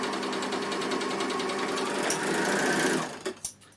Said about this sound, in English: sew with 4-thread overlocking